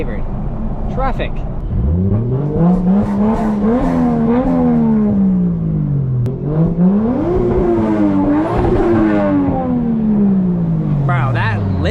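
Toyota Chaser sleeper with its factory catalytic converter revs hard, the engine climbing repeatedly to bounce off the rev limiter with stuttering, buzzing tone, loud and close, while people talk over it.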